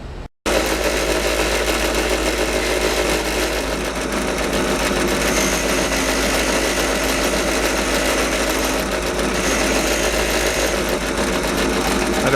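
A polishing wheel working an aluminum motorcycle part gives a loud, continuous motorized whine and buzz, starting abruptly after a brief silence and holding steady to the end, with faint talk underneath.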